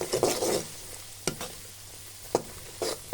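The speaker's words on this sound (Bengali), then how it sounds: "এটা একটু নাড়াচাড়া করলাম" Chili powder being stirred into mustard-paste pickle (satkora achar) in a pan, gentle sizzling under several distinct spoon scrapes against the metal at irregular intervals, close and fairly quiet.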